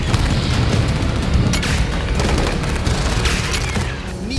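Naval cannons and weapons firing in a military war-game rehearsal at sea, a loud continuous barrage of booms and sharp cracks, several distinct blasts punching through a dense rumbling roar.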